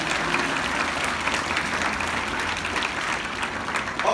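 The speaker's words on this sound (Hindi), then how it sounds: "जोरदार तालियां बजाओ इस मुहिम के लिए।" School students at a convent school applaud loudly in a steady, dense round of clapping that continues evenly for several seconds without pause.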